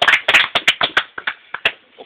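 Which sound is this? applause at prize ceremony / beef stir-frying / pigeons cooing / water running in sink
applause at prize ceremony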